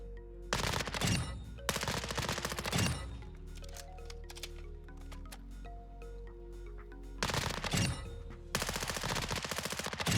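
Warzone gunfire from a hip-fire weapon build comes in loud, rapid automatic bursts at the start and again near the end. Quieter single taps and scattered clicks fill the gap between the bursts.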